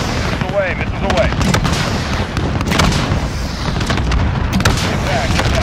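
Dense battlefield din from a Call of Duty Modern Warfare airbase assault: continuous heavy gunfire and booming missile-strike explosions rolling under radio chatter, loud and unbroken throughout.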